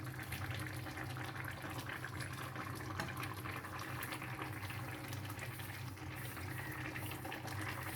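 Water poured into a pot of bottle gourd and groundnut curry, a continuous splashing, gurgling flow at steady level for several seconds with no talk.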